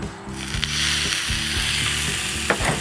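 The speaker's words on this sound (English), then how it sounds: "Listen to that sizzle." Tri-tip steak sizzling on a hot Blackstone griddle outdoors, a steady loud hiss with some mechanical rattling and clanks mixed in.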